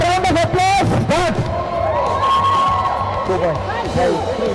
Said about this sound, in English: All supporting girls here, round of applause.